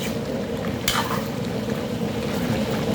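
Food cooking on a used-oil stove is stirred, giving a steady close sizzle and bubbling with one sharp scrape of the utensil partway through; no talking.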